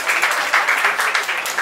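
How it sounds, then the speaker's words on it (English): An audience at a book launch applauds briefly, a bright, even wash of clapping that holds steady without any talk over it. "Give them a round of applause."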